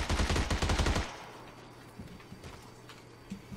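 A quick loud burst of automatic gunfire in PUBG on the Vikendi map, a fast string of rounds in the first second, then fading into a quieter ambient stretch with faint scattered distant pops.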